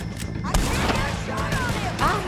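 Gunfire in Red Dead Redemption 2, several sharp shots cracking out in an irregular volley amid game effects and faint voices.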